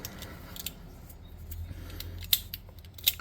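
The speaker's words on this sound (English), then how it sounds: "I'm going to snip them off." Scissors snip the tops off palisade sticks for a tabletop game model, two sharp distinct cuts standing out against a quiet background with faint handling noise.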